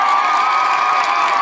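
A crowd cheering and clapping at a Dahi Handi festival as a Govinda troupe forms a human pyramid, a loud continuous roar of voices with dense applause.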